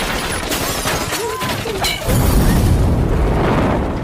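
A hail of gunfire and loud booming blasts in a war film, with dense crackling bursts giving way to a heavy, rumbling roar.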